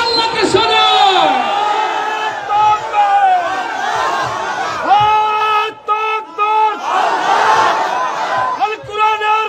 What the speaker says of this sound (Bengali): তাকবীর ধ্বনি দিয়ে আল্লাহকে শোনায়